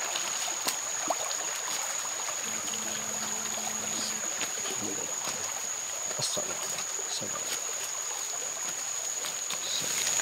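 A river crossed on the way to Gunung Batu Kodok flows in a steady, faint wash of running water, with no talk over it.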